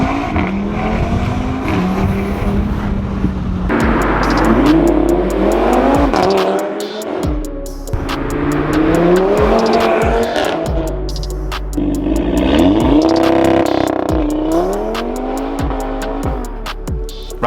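An Audi RS3 with a Stage One tune and a brand new engine accelerates hard through repeated gear pulls, its loud engine note rising and then dropping sharply at each shift, heard from inside the car.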